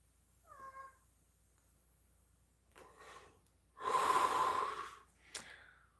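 A cat meows close by: a short, faint call at first, then a long, loud, drawn-out meow with breathy noise in it, and a brief sharp sound just after.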